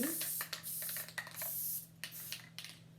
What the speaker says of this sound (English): It's a spray glue by Loctite. We're going to spray